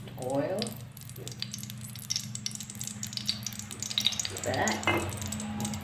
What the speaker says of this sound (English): The frying pan is hot and I'm gonna put oil.